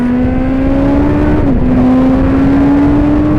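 A racing sidecar motorcycle engine at AHRMA practice at Barber, held loud and close on track with a steady high drone that dips briefly as if shifting gears, then climbs again as it accelerates.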